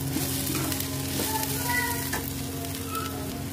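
Onions frying in butter in a pan for paneer bhurji, a steady close sizzle with faint stirring scrapes throughout, no talking.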